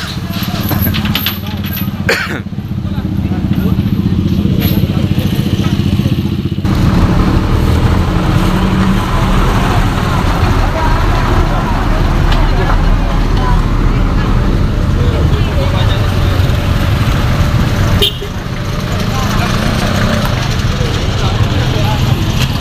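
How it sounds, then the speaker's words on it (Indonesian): Congested road traffic on a highway near Medan, held up by an accident evacuation: a steady, loud low rumble of idling and slowly moving cars and buses, with people talking over it throughout. "kita lihat situasi arus lalu lintas di jalur ini sedikit mengalami kemacetan karena terjadinya proses evakuasi"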